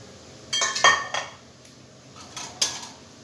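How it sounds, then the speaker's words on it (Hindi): A metal spoon clinks and scrapes inside a glass or bowl as custard sharbat is mixed, a few distinct clattering strokes separated by quiet gaps. "स्पून की मदद से और मिक्स कर लेंगे इसे"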